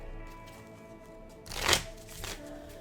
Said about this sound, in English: So I put 3 to the side, draw 3, and then shuffle these 3 back in